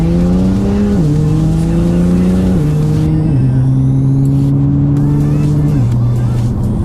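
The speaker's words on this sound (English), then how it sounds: "now I want you to give it some gas here. Floor it. Floor it." Nissan GTR engine pulling hard at full throttle, a loud sustained roar that climbs in pitch and drops with each gear shift, steady and close from inside the car over road noise.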